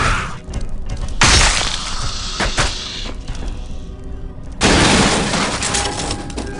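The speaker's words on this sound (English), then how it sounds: "we smashed this" An object smashed apart in Aliens vs Predator 2 bursts with loud shattering crashes, two big impacts with debris rattling between and after them, set against a noisy game ambience.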